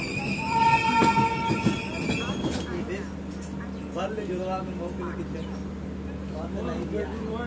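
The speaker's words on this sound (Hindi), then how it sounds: "our train is departing Itarsi parallel to the 11072 Varanasi Lokman Tilak Kamayani Express" The 15120 Rameswaram Express pulls out of Itarsi station, wheels squealing loudly at first before settling into a steady rumbling roll, with someone talking over the train noise.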